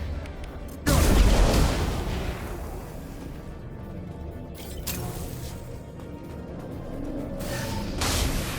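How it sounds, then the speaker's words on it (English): A concussive shot fired in the video game Mass Effect bursts as a loud, broad boom near one second, then fades into a sustained rumbling battle din with a couple of smaller bursts later. "Firing concussive!"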